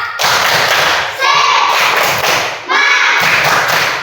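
Fourth-grade Indonesian schoolchildren in a classroom repeat the tepuk semangat clapping chant, loud bursts of synchronized claps mixed with chanted children's voices in two or three surges with brief dips between them.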